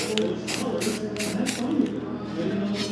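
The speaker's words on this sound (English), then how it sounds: "I want to get a little bit of primer on the back of this too" Spray can of primer misting onto raw steel of a 1957 Plymouth fender, several short, close hissing bursts in a quick rhythm over a steady workshop background.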